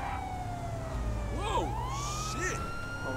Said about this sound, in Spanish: voy a cambiar de sirena. Este es más como de persecución